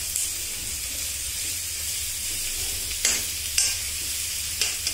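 Egg masala fries in hot oil and is stirred until brown, a dense steady sizzle and hiss up close, with occasional sharp scrapes of a spoon against the pan and no speech.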